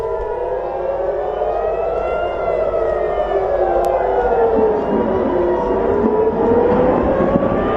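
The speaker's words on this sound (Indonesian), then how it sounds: "sirine peringatan serangan berbunyi di langit-langit Israel" A loud air raid siren wails steadily over Tel Aviv during an Iranian rocket attack, its pitch slowly rising and falling, with no other sound competing.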